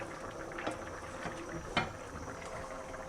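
Liquid from tomatoes and chicken simmers down in a karahi, a soft continuous bubbling and sizzling hiss with small pops, faint and steady throughout.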